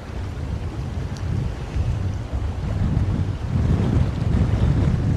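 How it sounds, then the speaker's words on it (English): Gusty westerly wind at a clear-water bass fishing spot in Aberdeenshire, a steady rushing buffet that swells and strengthens in waves, with no voices. "It just has a fair breeze of wind."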